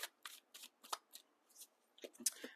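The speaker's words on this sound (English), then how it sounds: "I'm just going to shuffle these all up in front of everybody" A deck of tarot cards shuffled by hand, a run of quick riffling bursts in steady succession, close and fairly quiet with no talk.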